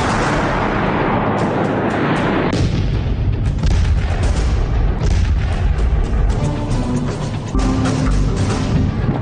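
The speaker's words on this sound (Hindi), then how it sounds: "इसे कहते हैं कारपेट बॉम्बिंग, यानी एक बार में टनों बम गिराकर एक बड़े दायरे को पूरी तरह तबाह कर देना।" Heavy carpet bombing by a B-2 stealth bomber: a loud, continuous barrage of overlapping booming explosions and rumbling blasts, dense and sustained throughout with no gaps.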